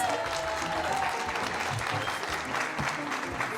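Audience applause at a live show with a mermaid-and-shark act, a steady wash of clapping from a crowd filling the whole moment, moderately loud and continuous with no talk over it.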